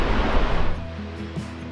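A roaring waterfall in Yosemite National Park, seen with Half Dome behind it, gives a dense, steady broadband rush that eases slightly partway through, heard alone without voices.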